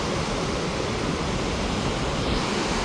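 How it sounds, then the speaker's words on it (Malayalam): Sea waves breaking on an island shore at night: a dense, continuous roar of surf, loud and close, with no voices. "കടൽ പൊട്ടി വരുന്നു എല്ലാ സ്ഥലത്തുനിന്നും വരുന്നു"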